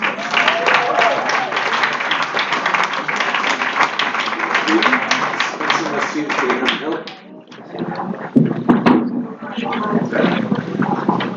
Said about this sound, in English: So give her a little clap.